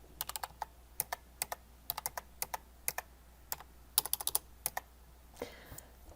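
Close, quiet typing on a computer keyboard: irregular runs of crisp key clicks with short pauses, followed by a faint soft rustle at the end.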